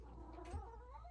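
A small cat, a young kitten, gives a soft, wavering meow in a yard, close by and faint, with a slight rise in the middle and no talking.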